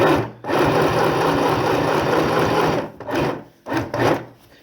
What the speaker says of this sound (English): This one machine is not easy to sew with at all.